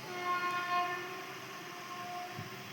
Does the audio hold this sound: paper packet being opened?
no